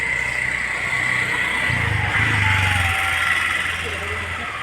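Auto-rickshaws arriving at a farmhouse give a steady mid-pitched engine drone that swells slightly in the middle and continues throughout, with a faint whine above it.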